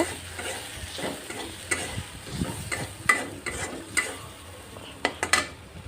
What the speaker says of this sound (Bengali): মরিচের গুঁড়া দিয়ে দিলাম দিয়ে এখন ভালোভাবে কষিয়ে নিব